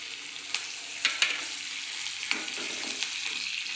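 Curry leaves sizzle in hot oil in a pan for upma. A steady bright hiss goes on throughout, broken by a few sharp pops and light stirring scrapes.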